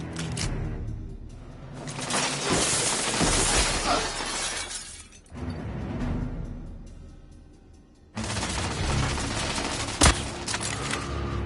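Sustained gunfire crackles in a firefight against a sniper in The Order: 1886, with dense bursts and sharp impacts that swell, drop away briefly around the middle, then resume loud with one heavy report near the end.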